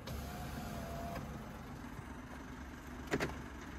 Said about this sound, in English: Let me open the window so you can hear it running.